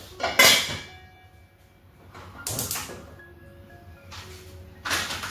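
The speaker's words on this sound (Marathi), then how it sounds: "हे बघा अशा पद्धतीने ठेवून त्याच्यावर झाकण ठेवून दिलं।" A metal lid clatters onto a cooking pot of khaman. There is a sharp clang at the start, then further clinks and knocks of kitchenware spaced over several seconds, with no talk.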